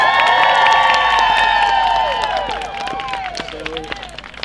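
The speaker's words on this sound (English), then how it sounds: "Please give a loud nursing round of applause to Mayor Arreguín of Berkeley, please" A large crowd of striking nurses at an outdoor strike line cheers and whoops loudly with clapping, whistles rising above the roar before it gradually subsides.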